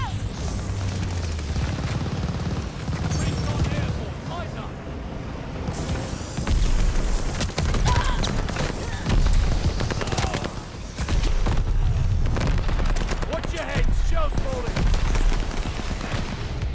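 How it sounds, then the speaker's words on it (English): Mortar shells and gunfire rip through a Call of Duty: Vanguard battle: heavy booms and dense bursts of shots pile into a loud, continuous barrage, swelling in waves with almost no pause. "Descending mortar shells."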